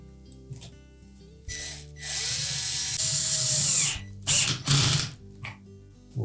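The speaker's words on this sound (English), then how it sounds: "And then we'll tighten up those two clamps." A power driver tightens two clamps on the pump housing of a GE dishwasher during a seal kit repair. It gives short close whirring bursts, with one long sustained run in the middle and a few brief spins near the end.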